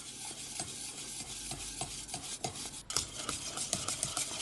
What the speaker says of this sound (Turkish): Ve tel çırpıcıyla iyice çırpıyorum